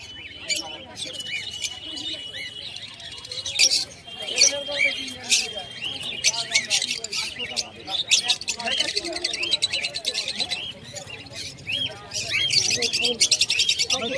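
Pigeons at a live pigeon market in Birnagar, including fancy black Lakka birds with feathered feet and full tails, give frequent short chirps and calls over a steady bustle of market noise and nearby talk.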